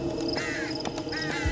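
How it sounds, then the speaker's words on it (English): Crows caw repeatedly in the horror video game Them and Us, a few harsh calls spaced out over a low ambient background, moderately faint. "I hear the damn birds."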